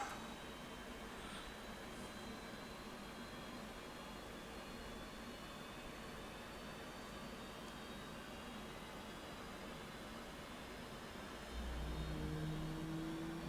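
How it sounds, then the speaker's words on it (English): F/A-18 jet engine during a cold start in the flight simulator DCS World, a steady, even whir that holds level throughout and swells slightly louder near the end, with no talk. "It's a nice sound, that whirring."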